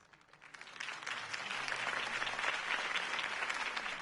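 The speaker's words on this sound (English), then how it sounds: "could have heard that applause" A crowd in the video game Batman: The Telltale Series breaks into applause that swells quickly and holds steady, a dense wash of clapping heard from a distance with a faint murmur underneath.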